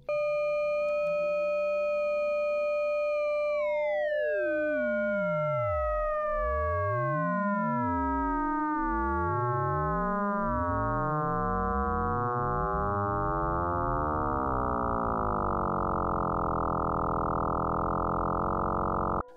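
Synthesized FM tone whose many partials fan out and sweep downward, some seeming to rise while others fall, a steady electronic drone ending in a dense buzzing cluster, clean and alone.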